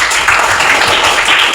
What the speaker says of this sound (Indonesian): Tepuk tangan untuk adik Bintang.